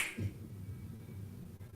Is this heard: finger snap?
yes